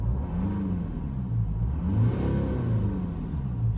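A Mercedes-Benz E220 CDI AMG Sport diesel coupe engine idles and revs gently, a steady low rumble with slight swells in pitch, close up and alone.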